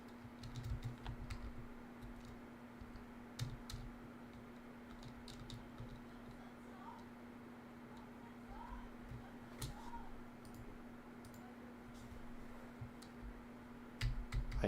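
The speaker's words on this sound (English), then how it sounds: "I'm clicking. I'm trying to type." Computer keyboard typing and clicking at a desk during a relaxed coding stream, soft scattered keystrokes and clicks over a steady low hum, faint and continuous with a brief louder burst at the end.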